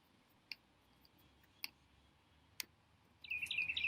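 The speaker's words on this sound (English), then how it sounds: "that bird who just really wanted to be a part of this service as well" A bird chirps at an outdoor Earth Day service, a few faint isolated clicky calls at first, then a brighter burst of quick high chirps near the end over quiet background.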